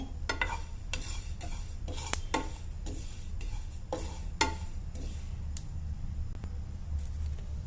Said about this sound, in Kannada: ಈಗ ಬಿಳಿ ಎಳ್ಳ ಒಂದು ಸ್ಪೂನ ಗಸಗಸಿ ಒಂದು ಸ್ಪೂನ್ ಅವನು ಎರಡು ಕೂಡಿಸಿ ಹುರಿತೇನೆ